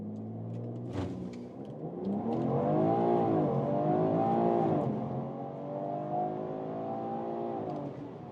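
A BMW Alpina B3 GT with a 3-litre six-cylinder launches hard under launch control, the engine note climbing through a rising rev sweep, dipping at a gear change and pulling up again, loud and close from inside the car.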